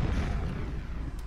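A rocket-jump explosion in the video game Quake: a deep, rumbling boom that fills the moment and slowly trails off, with no talking.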